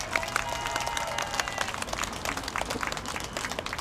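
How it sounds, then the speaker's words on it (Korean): An outdoor audience gives a dense, continuous round of applause to welcome a lawyer taking the stage for a podcast session, steady crackling claps with no talking. "우리 김기수 변호사님 뜨거운 박수로 모시겠습니다."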